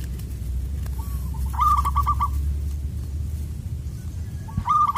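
A zebra dove gives a rapid, loud trilling coo, then starts another a few seconds later, over a constant low background rumble.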